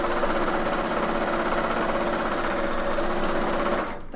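A sewing machine stitches two knit jacket collar layers right sides together in one continuous, loud, close run with a fast even rhythm that stops abruptly at the end.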